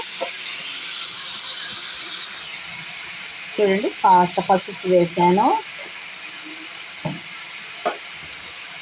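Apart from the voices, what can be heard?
moong dal frying in tempering oil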